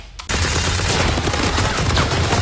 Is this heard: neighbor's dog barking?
no